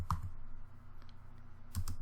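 Quick keystrokes on a computer keyboard, a couple of soft taps near the start and another short cluster near the end, close and quiet, with no speech.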